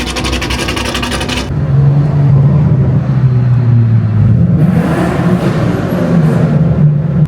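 Cars pull away from a downtown Louisville car meet, a loud close engine revving and droning with a rising, shifting pitch, then more engine noise and hiss as the vehicles move off together.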